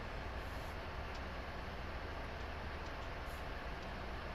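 Freight train rolling across a point on Sherman Hill, a faint, steady low rumble of wheels and cars with no distinct beats, continuous and distant.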